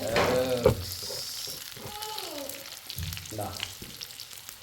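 Mussels fry with chilli in a pan, a close sizzle with a few stirring scrapes, sharp at the start and softer after.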